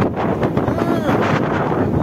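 Strong wind at Laguna Beach in Dubai buffets the microphone with a loud, steady roar, broadband rushing noise filling the whole clip with no clear pauses.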